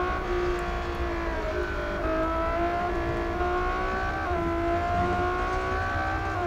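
A Ferrari F12 tdf engine pulling hard under full throttle in the racing game Real Racing 3, a steady, loud, high-pitched mechanical whine holding and rising slightly throughout, with no voices.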